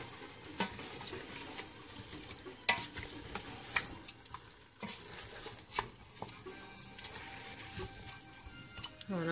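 Pre-cooked ingredients for chicken pastilla stirred in a pan, soft sizzling under repeated scraping and clinking of the utensil, close and fairly quiet, no voices.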